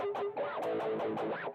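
Heavily distorted high-gain electric guitar notes bending and wailing in a screaming, vocal-like line, several swooping pitches in quick succession, loud and upfront in a game soundtrack.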